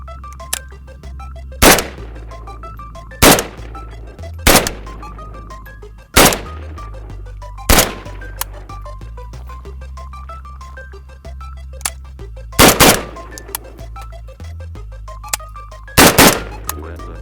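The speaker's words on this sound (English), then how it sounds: "So, we're gonna do lots of shooting" AK rifle firing single loud, sharp shots spaced one to two seconds apart, about a dozen in all, over a quieter steady tonal background.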